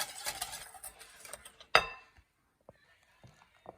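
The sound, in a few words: stirring melon pulp with sugar in a bowl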